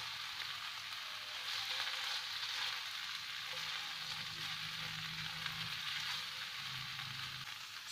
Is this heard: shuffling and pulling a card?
no